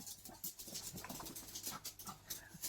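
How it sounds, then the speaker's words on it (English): Puppies playing in a home kitchen give soft panting, small whimpers and scuffling bursts, faint and somewhat distant, with no speech over them. "Gosh, my puppies are playing."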